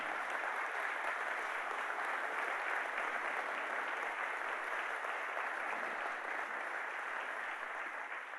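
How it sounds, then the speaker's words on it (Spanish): A church congregation at an anniversary service claps loudly and continuously, a steady wash of applause with little else heard. "Den un fuerte aplauso"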